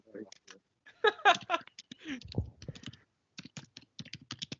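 Rapid clicking keystrokes on a computer keyboard, irregular bursts of typing close by, with a voice briefly speaking partway through.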